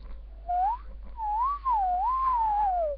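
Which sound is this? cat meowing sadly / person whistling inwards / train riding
person whistling inwards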